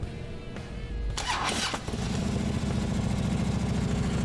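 A 2010 Harley-Davidson Road King motorcycle cranks with a brief starter whir, fires up and settles into a deep, loping idle rumble, close and steady with no talking.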